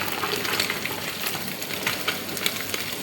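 Sardines sizzle and crackle steadily in hot oil while being scooped out of the pan, a close, continuous frying hiss with small pops and stirring scrapes.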